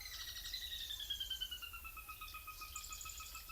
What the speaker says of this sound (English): so I can play you the sound of the sora in the picture here.